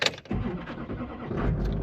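A truck engine cranks and fires right up on the key, a quick starter burst followed by a steady, close idle rumble that swells slightly at the end.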